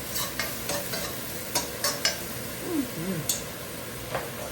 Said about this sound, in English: And this is frying down nicely.